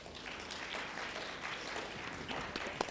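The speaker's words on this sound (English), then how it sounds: "If you can kindly give her a warm round of applause" An audience applauds a panel speaker at a skills summit, a steady wash of clapping from many hands with scattered louder claps near the end, sustained through the whole moment.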